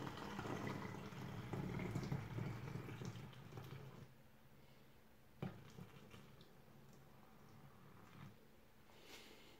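Water being poured in during bathroom cleaning, a soft continuous splashing and trickle that is louder at first, then thins into quieter dribbles with one small knock.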